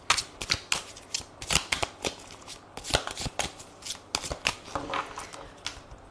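Tarot cards being shuffled by hand, a close series of crisp riffling slaps and flutters in irregular bursts, loud and alone with no talk.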